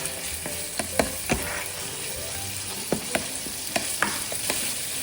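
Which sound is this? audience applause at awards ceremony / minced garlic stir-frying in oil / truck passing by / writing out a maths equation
minced garlic stir-frying in oil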